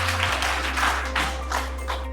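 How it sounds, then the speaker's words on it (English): Brief clapping from a small audience at a facilitators' training session in Nasarawa State, a few seconds of dense patter over a steady electrical hum. "Please clap for them."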